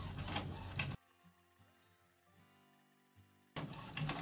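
Home inkjet-style printer on its thick paper setting, printing a magnetic sheet at best quality: a louder mechanical burst at either end framing a quieter whirring, ticking feed passage in the middle, with no voices.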